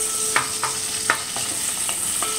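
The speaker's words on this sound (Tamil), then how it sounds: "வெங்காயம் நல்லா வதக்கிக்கோங்க." Onions sautéing in coconut oil for a vegetable stew, a constant bright sizzle with a handful of spaced spatula scrapes and taps, close and moderately loud, no voices.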